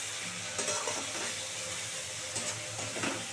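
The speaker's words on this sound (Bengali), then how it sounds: "সুন্দর করে একটু ভালো করে কষিয়ে নিই।" Tomatoes and spices sautéing in a pan for masoor dal with katla fish head, a steady close sizzle with a few soft stirring scrapes, no talking.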